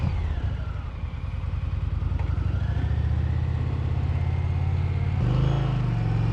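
An Indian Challenger motorcycle engine idles steadily up close, a low rumbling throb that holds even before stepping up slightly in pitch near the end.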